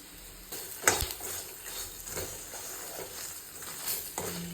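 Ground spices with salt and turmeric frying in oil in a pan for idli pulihora, a steady soft sizzle with a few scrapes and clinks of a spoon stirring, close by and alone.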